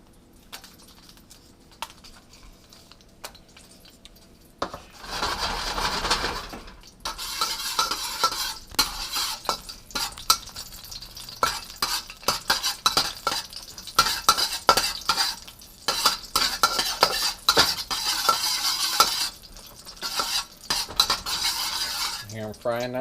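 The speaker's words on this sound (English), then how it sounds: "I'm going to fry up these chilies." Chilies frying in oil in a pan while being stirred, with steady sizzling and repeated clinks and scrapes of a utensil against the pan, quiet at first and then busier and louder throughout.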